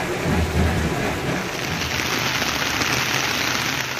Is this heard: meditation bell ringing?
no